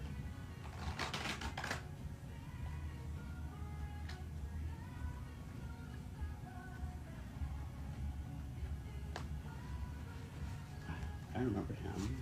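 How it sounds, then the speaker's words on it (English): A deck of cards is shuffled by hand during a card reading, with a short riffling burst early on and then scattered soft card taps under quiet talk. "I'm just gonna shuffle this one more time."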